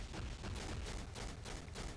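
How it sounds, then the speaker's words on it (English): Cosmic Cannon skill attack in the MARVEL Future Fight mobile game, a sustained dense barrage of booming blasts and rapid-fire shots, loud and continuous throughout with no talking. "This is the Cosmic Cannon."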